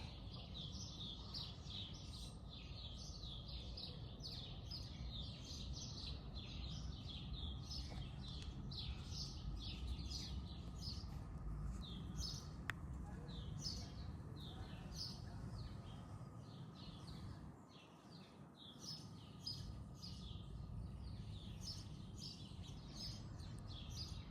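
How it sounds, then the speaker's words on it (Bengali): A flock of little sparrows keeps up a busy, continuous twittering, repeated short chirps at moderate distance over a low ambient rumble, with a brief lull near the end and no talking. "এই যে ছোট ছোট পাখিতে কিচিরমিচির করছে খুবই ভালো লাগতেছে"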